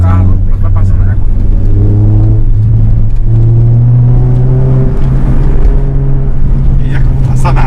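A stage 4 Honda Civic Si roars loudly and steadily with strong low rumble and rising engine tones throughout, while people talk over it.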